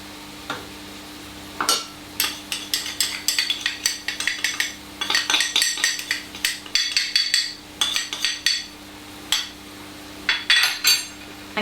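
A utensil stirs flour into leeks and butter in a pan, making irregular scraping and clinking strokes against the metal, loud and close, with a faint sizzle underneath and no voices.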